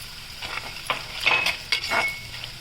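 Bitter gourd frying in oil, with salt added, while a utensil stirs and scrapes against the pan in irregular strokes over a soft, continuous sizzle.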